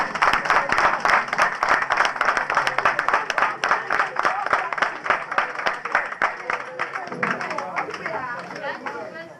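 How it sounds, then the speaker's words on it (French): Rhythmic, fairly loud audience applause for a mayor and his commune at a Christmas celebration with residents of a care centre in Bohicon, steady clapping through most of the clip, with voices rising near the end. "je souhaite qu'on applaudisse très fort le maire et toute sa commune"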